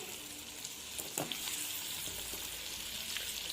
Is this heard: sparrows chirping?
no